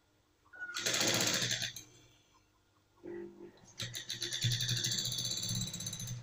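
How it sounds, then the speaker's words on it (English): Sewing machine stitching a zipper onto trousers: two bursts of rapid mechanical whirring, the second longer, separated by a short pause, close and fairly loud. "I'm going to sew this thing."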